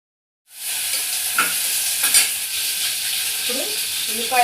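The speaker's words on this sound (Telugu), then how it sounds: "యాలక్కాయలు పువ్వు వేస్తున్నానండి." Cardamom pods and mace dropped into hot oil in a pan for coconut rice, bursting into a steady, loud sizzle after a moment of silence and frying continuously with faint stirring scrapes.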